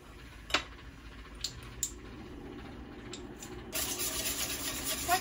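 Sugar and salt are mixed into egg yolks in a bowl for a chocolate chiffon cake: quiet, soft rubbing strokes with a few light taps, growing louder and denser toward the end.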